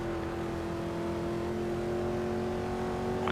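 Race car engine in the GRID Legends racing game, a steady high-pitched revving drone that holds across the clip, loud and continuous, with no speech over it.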